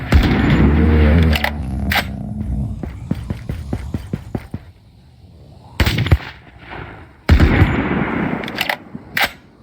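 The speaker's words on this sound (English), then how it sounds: "Got the reloading sound." Weapon reloading effects from a zombie apocalypse puzzle game, a burst of rapid mechanical clicks and clacks followed by a pause, then two loud, abrupt metallic hits, all close and dry.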